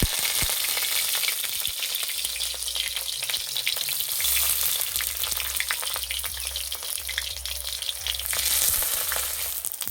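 Paneer-stuffed bottle gourd leaf rolls fry in mustard oil in a kadai, giving a loud, steady sizzle with scattered crackles and pops close by throughout, with no talk.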